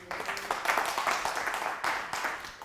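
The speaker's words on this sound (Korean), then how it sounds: "여러분 박수 한번 주세요." Audience applause at a leadership lecture, a few seconds of scattered clapping in bursts that rises and dips unevenly, fairly quiet and without speech over it.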